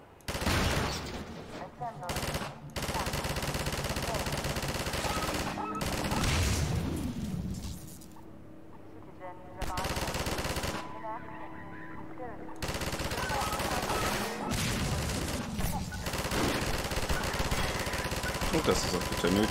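A mounted gun emplacement firing in Half-Life 2, long loud bursts of rapid automatic fire broken by short gaps, with speech over the shooting.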